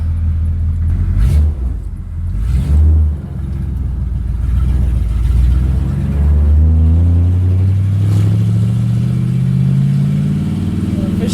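A 1964 Ford Galaxie 500 driving along with a loud, close engine rumble that rises in pitch as it accelerates, steady and continuous.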